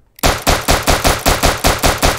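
Rapid gunfire in the Police Response VR video game: a sharp opening shot, then a steady rhythmic string of about nine loud, close shots at even intervals, with no talking.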